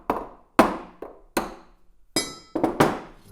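A pop rivet on a carburetor accelerator pump check valve being tapped over wood blocks, giving about seven sharp, close metallic knocks with a slight clink, spaced irregularly with short pauses.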